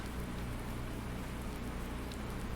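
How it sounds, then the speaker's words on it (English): Steady rain falls in Farming Simulator 19 near a canola field, a constant soft hiss with no break and no voices. "not in this rain"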